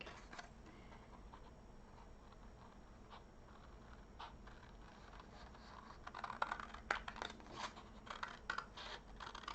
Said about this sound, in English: Scissors here.